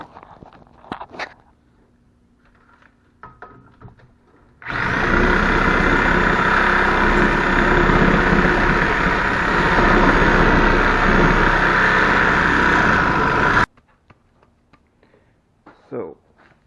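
A steel base plate for a transmission mount is cut with a power tool, a loud, steady grinding whine lasting about nine seconds, with quieter shop sounds and handling noise before and after.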